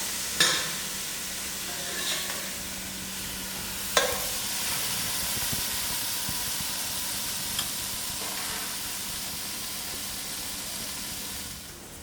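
Broad bean curry being stirred in a pan, a steady sizzle and frying hiss throughout with a few soft utensil scrapes and clinks against the pan.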